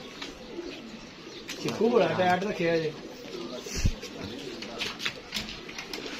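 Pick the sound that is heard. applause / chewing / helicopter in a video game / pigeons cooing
pigeons cooing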